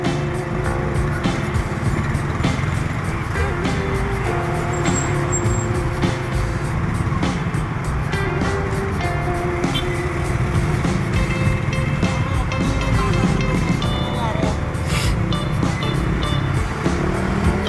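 Congested road traffic with cars, trucks and buses, a continuous close rumble of engines and passing vehicles with occasional brake hiss and horn-like tones.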